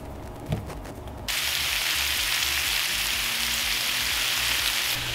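Small cut pieces of kielbasa sausage frying in a pan, rendering fat, with a dense, steady hiss and crackle that starts abruptly after a quiet moment and stays loud and close.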